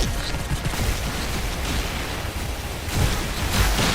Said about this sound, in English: now we just have infinite bullets shooting from back there. An infinite stream of fireworks, too